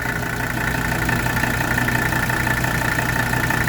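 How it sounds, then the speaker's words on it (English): A 1983 Mercedes 300D diesel engine idles smoothly and steadily, a constant low rumble with an even mechanical hum and no voices. "look how smooth the engine is."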